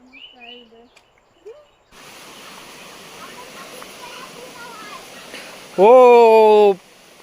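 Steady rushing stream water runs throughout, with a few bird-like calls at the start and a loud, rising tonal call briefly rising over it near the end.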